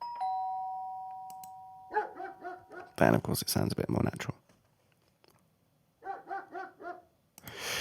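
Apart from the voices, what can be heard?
doorbell sound effect followed by dog barking sound effect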